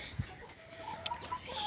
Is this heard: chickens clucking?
yes